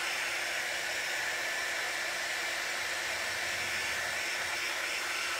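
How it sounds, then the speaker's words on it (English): A heat gun blows over a chalk-painted butter dish to dry it, a steady loud airy whoosh and hiss that continues unbroken and close, with no talk. "let me hit this now with the heat gun"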